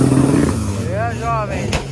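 A car accelerates hard in an illegal night street race, its engine note rising and then falling away in a quick sweep. Loud voices talk over much of it.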